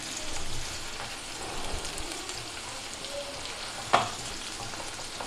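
Sliced mushrooms for an omelette fry in a pan with a steady soft sizzle, and a single sharp clink rings out near the end.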